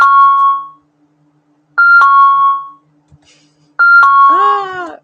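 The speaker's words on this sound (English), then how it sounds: "I can't even turn that alarm off." Alarm beeping in three loud, evenly spaced tonal bursts with gaps between them, close and clear, the last one joined by a whining, crying dog.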